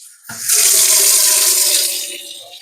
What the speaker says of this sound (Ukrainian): і наливаю туди гарячу воду.